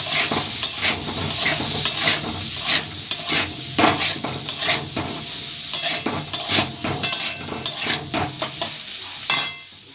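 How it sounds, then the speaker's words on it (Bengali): Potatoes fry in mustard oil with salt and turmeric, a bright continuous sizzle punctuated by frequent clattering stirs of a metal utensil against the pan, close and fairly loud. "সামান্য একটু হলুদ দেব দিয়ে আলুগুলো ভেজে নেব"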